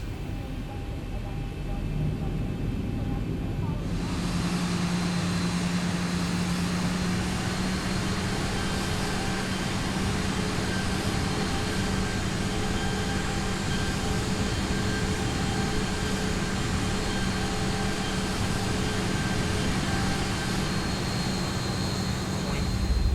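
A Boeing 737 taxis toward the runway in the X-Plane 11 flight simulator, with a continuous loud jet engine whine and hum that swells after a few seconds and holds steady under talking.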